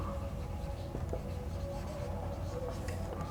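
A pen writing on paper during a worked polynomial math problem, with soft continuous scratching strokes under a constant low room hum.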